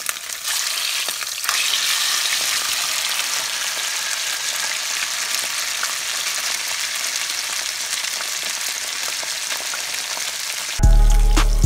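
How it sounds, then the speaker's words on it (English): Salmon fillets fry in a pan over medium heat, a dense, steady hiss and crackle of sizzling oil that runs unbroken for about eleven seconds, close and fairly loud, with a sharp clatter right at the end and no talking. "we're going to let that fry maybe about 2 minutes on each side, because I don't want to overcook it"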